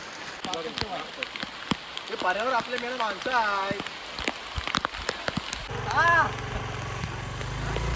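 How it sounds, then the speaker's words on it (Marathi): Heavy monsoon rain patters continuously outdoors in coastal Konkan, a dense hiss under intermittent talking voices and a few sharp knocks. "बघा बाहेर पाऊस पडतोय एकदम मस्तपैकी"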